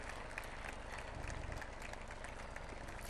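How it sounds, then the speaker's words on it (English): A school event audience claps for the dignitaries, a dense, even patter of many hands that stays steady through the short clip and sounds a little distant. "can we please keep showering a big round of applause for all the dignitaries?"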